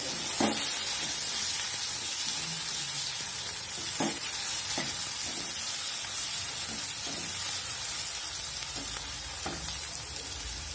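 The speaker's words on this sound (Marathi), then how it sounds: "मी उभा कांदा कट केलेला बारीक तो ह्याच्यात टाकून द्यायचा आहे हे छान परतून घ्यायचे" Thinly sliced onion sautés in a pan for a drumstick vegetable dish, giving a constant soft sizzle broken by sharp clicks of a spoon stirring against the pan every second or so, with no talking.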